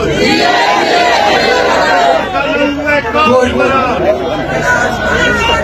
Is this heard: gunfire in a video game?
no